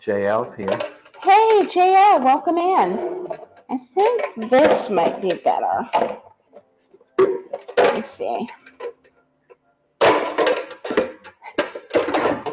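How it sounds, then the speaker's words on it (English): Pans clatter loudly in a home kitchen as they are pulled from a cupboard, clanking bursts mixed in with a person talking nearby. "Sorry for the noise. All my pans are going everywhere."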